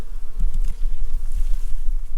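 Bees buzz close by in a beekeeping setting, a dense droning hum with a few louder passes near the start, heard alone without talk.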